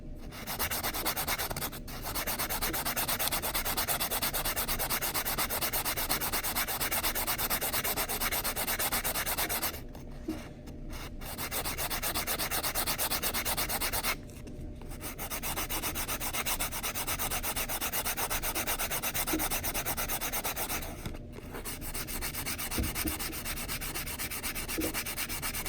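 Abrasive sanding on the cut edge of a metal coin ring, a loud continuous scratchy rubbing that runs for long stretches and stops briefly three or four times before resuming.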